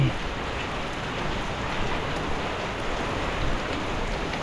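Heavy rain pours down steadily during a storm, a dense, continuous hiss of drops hitting surfaces close by, loud and unbroken throughout with no voices.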